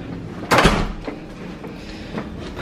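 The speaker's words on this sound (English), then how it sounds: "So now we can let that door shut." A hotel room door swings shut with a single solid thump, close and fairly loud, followed by a few faint knocks and room noise.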